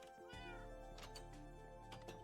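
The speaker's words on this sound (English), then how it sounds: "Oh my god, cat!" A Minecraft cat meows in a short, clear drawn-out call over steady game background tones, faint in level and with no talking.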